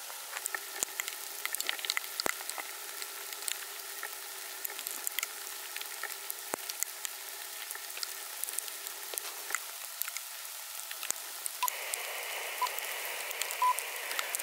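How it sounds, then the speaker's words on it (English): Sleet falling on tree leaves during snowy weather makes a steady, fine crackling patter of countless tiny ticks, fairly close and continuous, with a faint electronic tone near the end. "we have this sleet coming down"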